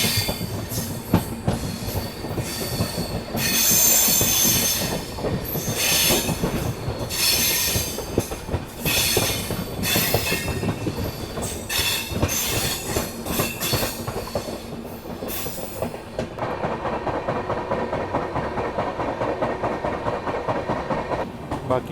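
The Netaji Express passing alongside on an Indian railway line, heard from aboard the moving Suhaildev Express: a loud, rushing roar with rhythmic clatter and squeal of wheels that cuts off sharply, leaving the quieter hum of the train's own running.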